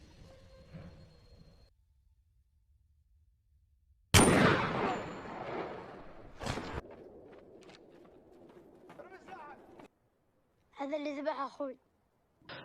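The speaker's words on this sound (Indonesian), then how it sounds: "Di sini akhirnya Hasan ditembak mati oleh Tip." A single sharp, loud gunshot from the World War I film Theeb rings out suddenly and then fades in a long tail, followed by scattered fainter sounds, with a bird cooing softly before and after.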